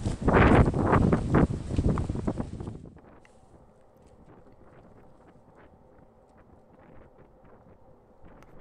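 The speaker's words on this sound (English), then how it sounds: "Pretty windy here, and a nice little tunnel to get through." Loud wind buffets the microphone for the first few seconds at a disc golf course, then drops away to a low, steady background rumble.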